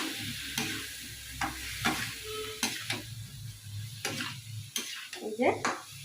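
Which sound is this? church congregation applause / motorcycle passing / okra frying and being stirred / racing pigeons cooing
okra frying and being stirred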